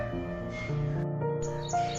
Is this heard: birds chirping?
yes